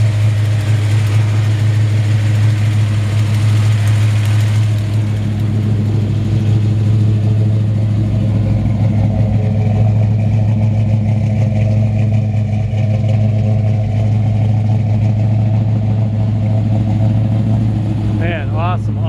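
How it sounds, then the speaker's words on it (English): A 1954 Chevy 3100 shortbed pickup idles in drive through its new exhaust while still warming up, a loud steady low rumble that runs unbroken throughout, with a voice talking over it. "Man, awesome sound coming out of these new exhaust."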